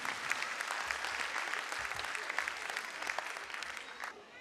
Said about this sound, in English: big round of applause for Kidzee Pimple Gurav team